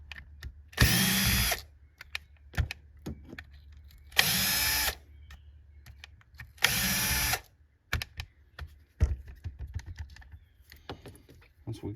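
Three loud bursts of a power screwdriver or drill backing out the float bowl screws on a Yamaha Grizzly 450 ATV carburetor, each lasting about a second, with quieter clicks and handling noises in between.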